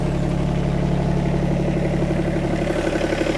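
A Kubota mini excavator diesel engine idles steadily after starting, with a low, even throbbing rumble and a faint rhythmic chug throughout, fairly close and alone.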